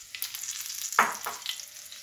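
Chilli and garlic fry in hot oil with a close, steady sizzle, broken midway by a sharp clack of a utensil against the pan.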